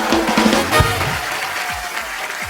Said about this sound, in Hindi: जोरदार तालियों से अनुष्का का स्वागत है